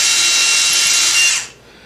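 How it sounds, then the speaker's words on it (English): A power drill whirs loudly and steadily while boring holes into a wooden bowl blank for faceplate mounting, then winds down and stops near the end. "So the first thing we did is take our drill"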